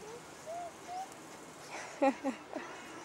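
A couple of soft whistled chirps, then a few louder, sharper bird calls nearby over quiet room hiss.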